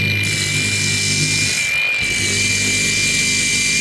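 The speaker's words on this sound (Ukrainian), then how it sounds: "буду просто ставити на стіл і пробувати шліфувати" Loud, steady high-pitched whine of an angle grinder working metal, with a brief dip in the motor's drone midway.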